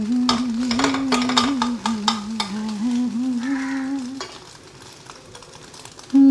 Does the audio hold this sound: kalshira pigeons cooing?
no